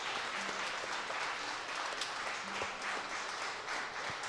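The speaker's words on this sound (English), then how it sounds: "A standing ovation from the crowd for just stellar gameplay." Steady crowd applause fills the space as a standing ovation at a Celeste Any% speedrun grand finals event, a dense continuous wash of clapping from a large audience with no voices standing out.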